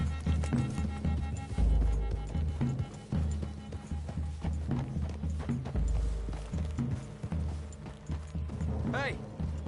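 Horse hooves clip-clop at a steady walking rhythm in Red Dead Redemption II, close and clear, with voices talking over them.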